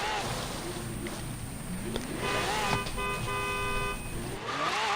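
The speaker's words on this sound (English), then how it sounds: "So then I just started honking my horn." A Lamborghini Centenario sounds its horn in Forza Horizon 3: a sustained tonal honk stands out over a steady engine and road drone, with a brief gap before it resumes near the end.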